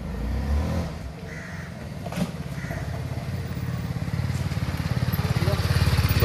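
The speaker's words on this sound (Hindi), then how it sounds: "ये देखो ये वाली बाइक आ रही है।" A motorcycle, likely a TVS Apache 310, approaches with a steady engine drone that grows louder and more pulsing toward the end, with faint background voices.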